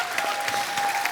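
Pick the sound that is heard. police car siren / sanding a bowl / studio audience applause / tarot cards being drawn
studio audience applause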